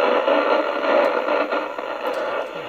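A Kenwood TS-50S transceiver tuned to the AM broadcast band plays a station steadily at moderate loudness, with a hissy, slightly crackly tone and faint ticks, and no one speaking over it.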